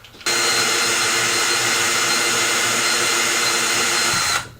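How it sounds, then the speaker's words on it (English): A drill boring through a 2x4 for a DIY kayak trolling motor mount, one steady high whine that starts abruptly, holds for about four seconds, then cuts off, loud and close. "I've got to get a drill bit that is the right size for this to drill through both of these on the 90"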